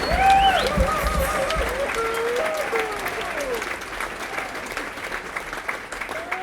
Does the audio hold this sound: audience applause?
yes